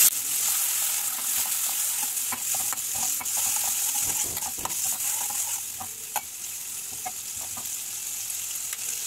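Ground ginger and green chili paste is fried with a splash of water for a potol khashi curry, making a steady close sizzle. Frequent spoon scrapes and clicks mark the stirring, and there is no talk.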